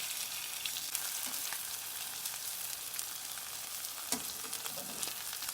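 Spam slices frying in a pan, with a steady, fairly quiet hiss of sizzling oil and a few faint crackles and pops throughout.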